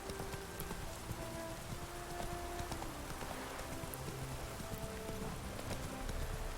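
Steady clip-clop of horse hooves during a ride in The Witcher 3, continuous and moderately loud over a rain-like wash of game ambience.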